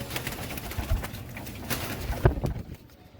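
Pigeons of tiger breed and kamagar types, including blue kamagar, coo softly in a loft, with low murmuring calls and a few louder bursts around the middle, no talking over them.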